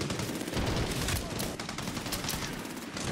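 Sustained rapid gunfire from a Medal of Honor Warfighter firefight, loud bursts of automatic weapons and overlapping shots running continuously without pause.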